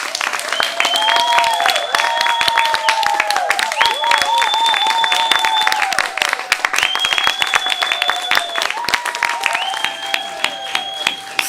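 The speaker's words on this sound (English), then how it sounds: "Let's give them a round of applause as we take that break." Steady applause fills the hall at the Gleaner Children's Zone Spelling Bee 2024 for the whole stretch, with a repeating tonal melody running over the dense clapping.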